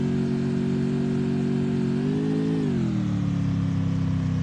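Motorbike engine in the Garena Free Fire video game, a sustained mid-pitched drone that holds steady, then wavers and drops in pitch as the bike shifts speed, loud and alone.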